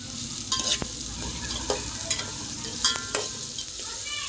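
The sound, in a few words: onion being sautéed in a pan for dal khichdi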